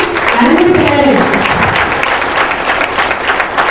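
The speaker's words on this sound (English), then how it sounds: "I would like all of you to give a big round of applause to the young scientists and the parents." Audience applause at a parents' talk for young science students, a dense wash of clapping lasting throughout, loud and close, with a voice briefly audible over it near the start.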